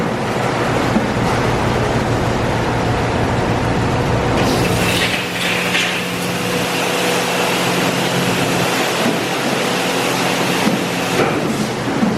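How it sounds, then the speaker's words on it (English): A car wash wheel scrubber runs in a Wesumat soft-wash bay, a steady loud wash of spraying and brushing with shifting rumbles and swishes throughout, no talk. "That's the wheel scrubber."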